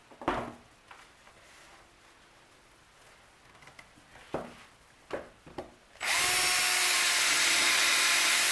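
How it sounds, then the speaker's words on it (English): Power drill boring a pilot hole through 1/4 inch plywood into 1/2 inch plywood for a circle-cutting router jig, starting as a few short taps and scrapes, then a loud steady whirring drill run that continues to the end. "as I now pre-drill through the 1/4 inch into the 1/2 inch"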